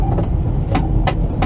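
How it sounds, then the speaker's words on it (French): A Mercedes camper truck rolls along a bike path, its engine and tyre noise steady and close, with a few brief bursts of rattling or passing sound. "Je suis en train de rouler sur la piste cyclable."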